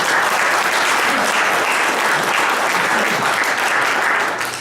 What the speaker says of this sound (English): I'll have to give you a round of applause